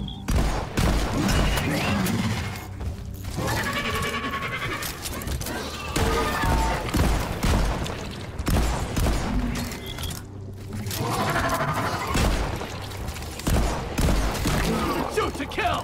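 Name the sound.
gunfire in Deep Rock Galactic video game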